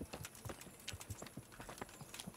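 Horse hooves clip-clop in a steady, moderately quiet rhythm of repeated hoof strikes, heard in the medieval video game Kingdom Come: Deliverance, with no talk over them.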